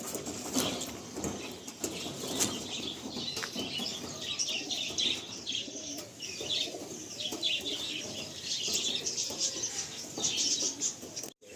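A pair of pigeons is released from a loft, their wings flapping and clattering repeatedly at close range, with soft cooing and rustling mixed in throughout.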